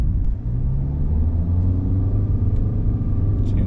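A Kia Sonet SUV in Sport mode accelerates, its engine droning steadily and climbing slightly in pitch under a constant road rumble, heard close from inside the cabin.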